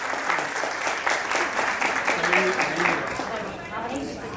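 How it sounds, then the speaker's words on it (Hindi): A crowd at a birthday party claps to welcome a couple, a dense burst of applause that carries on steadily and slowly thins out, with voices mixed in under it. "जोरदार तालियों से स्वागत किया जाए।"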